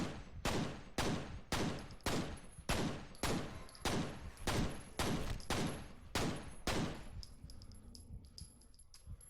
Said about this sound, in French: Hop, et les 10 balles qui passent.